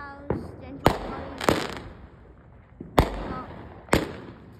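A fireworks show heard from indoors, with about five sharp booming bursts spaced irregularly across a few seconds, each decaying into faint crackle against a quiet background.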